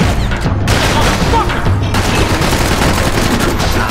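Max Payne 3 gunfire: loud, rapid shots and blasts crowd together without a break, one after another, with a voice talking over them.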